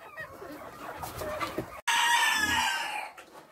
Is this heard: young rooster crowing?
yes